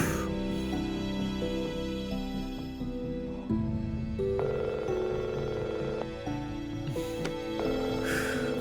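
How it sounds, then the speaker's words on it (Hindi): A telephone rings in a dramatic indoor scene, its repeated electronic tones sounding over sustained background music that shifts partway through. "फोन उठाओ"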